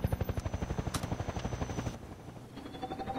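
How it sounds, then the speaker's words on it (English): Attack helicopter in the video game Half-Life 2, rotor blades thumping in a fast steady rhythm, close and prominent, with a sharp burst midway before the chopping fades slightly. "there's a helicopter shooting at me"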